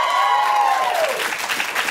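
Studio audience at a live political news show applauds steadily, a broad wash of clapping filling the room, with a sustained tone fading beneath it.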